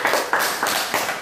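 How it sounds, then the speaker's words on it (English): A classroom group claps for a student, a brief burst of several quick, close, fairly loud claps in an even rhythm. "Let's clap our hands for him"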